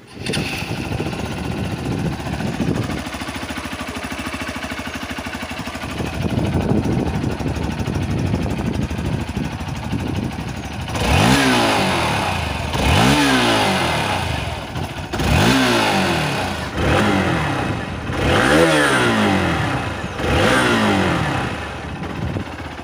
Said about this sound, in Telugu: ఇప్పుడు ఈ బైక్ యొక్క ఎగ్జాస్ట్ సౌండ్ ని విందాం